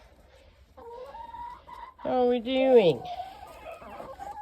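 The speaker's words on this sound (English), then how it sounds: "Hi, chickens." Backyard chickens cluck and squawk in a short burst, loud and close, overlapping a person speaking to them on a winter farm.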